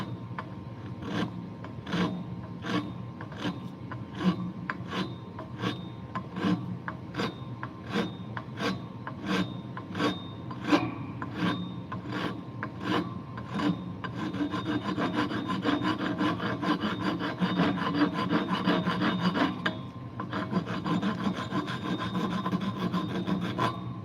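Sandpaper rubs over a wooden handle being re-fitted to a flush cut saw, steady back-and-forth rasping strokes at a brisk even rhythm, close and continuous, blending into faster scrubbing toward the end, with no voices.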